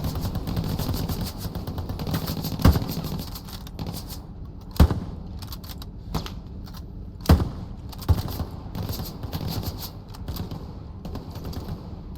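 Gunfire in the World War II shooter Hell Let Loose: sharp distant shots crack out one at a time at irregular intervals over a steady background of rattling combat noise, with no talking heard.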